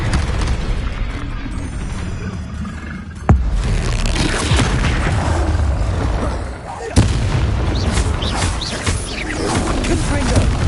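Confringo blasting spells in Hogwarts Legacy, loud booming explosions with two sharp blasts standing out over a continuous roaring, crashing combat din.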